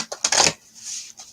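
Brand new playing cards being shuffled: a quick burst of crisp riffling and flicking, fairly close and moderately loud, then a softer trailing rustle with a brief tap near the end, with no voices.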